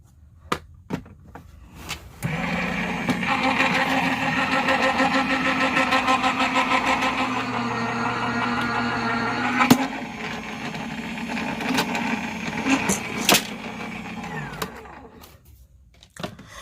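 A Crafter's Companion Gemini electric die-cutting machine runs an intricate metal die through in one pass, giving a steady motorized hum and whir for about twelve seconds, framed by handling clicks and taps before and after.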